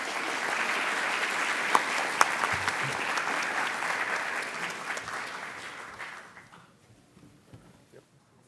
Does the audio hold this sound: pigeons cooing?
no